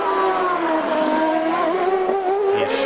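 CART race car on a qualifying lap at Long Beach, engine holding a loud steady high whine close by, with a brief shift near the end.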